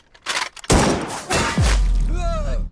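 A loud gunshot cracks at a military firing range in a film, one sharp blast followed by a low rumbling aftermath, with voices and brief shouting around it.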